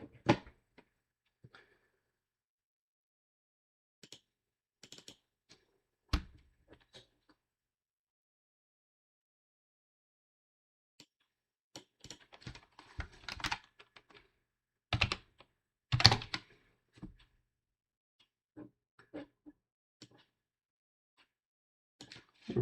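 Scattered bursts of key clicks from a computer keyboard, short clattering runs separated by long silent gaps, close and fairly quiet.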